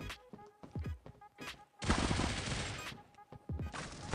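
MP7 submachine gun bursts in the mobile shooter Critical Ops, with a sustained roar of rapid automatic fire in the middle, framed by several short sharp shots and clicks before and after.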